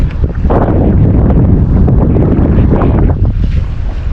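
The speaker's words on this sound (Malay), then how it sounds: "Ini udah mulai pecah angin." Strong sea wind roars across the microphone on a fishing boat, a loud continuous buffeting rush with the sound of open water beneath it.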